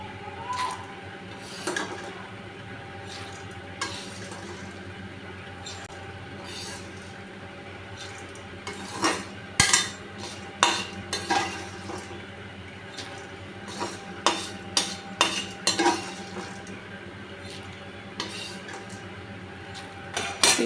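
Roasted peanuts tipped into a pan, with scattered clattering and metallic clinks that get busier partway through over a steady kitchen hum.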